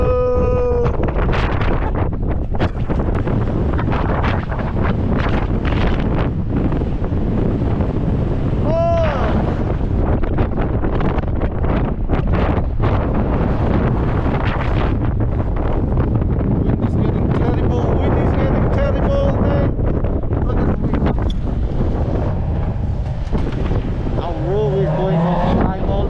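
Strong gusting wind batters the microphone on a cold 6 °C day at an abseiling site, roaring loud and continuous with buffeting bursts, while voices speak intermittently over it.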